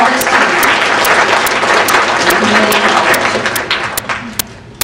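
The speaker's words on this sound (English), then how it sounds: "So let's give him a round of applause" An audience at a workplace talk applauds a priest, loud dense clapping that fills the room, then thins out toward the end with a few last sharp individual claps.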